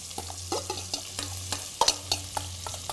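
Onions go into a pan where sausages have been browned for rougail saucisses, raising a sizzling fry with several sharp scraping and stirring clicks over about three seconds, close and alone.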